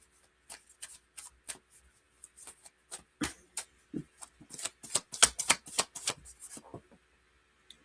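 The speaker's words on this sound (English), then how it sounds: "We're just going to keep shuffling." Tarot cards being shuffled by hand in a series of crisp, riffling bursts that quicken and grow louder midway, with short pauses between, close up and alone.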